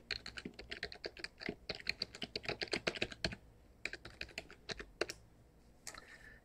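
A long password is typed on a computer keyboard in quick bursts of close, crisp key clicks with short pauses between runs, no talking over it.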